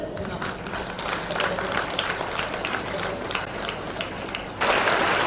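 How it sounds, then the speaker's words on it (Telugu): An audience at a Telugu stage event applauds with dense, sustained clapping that swells louder near the end. Speech can be heard faintly under the clapping. "సరే, అమ్మాయికి మరొకసారి గట్టి క్లాప్స్ ఉండండి"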